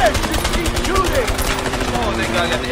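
Rapid automatic fire from an MP5 in the video game A Way Out, a dense, loud burst of shots rattling continuously throughout.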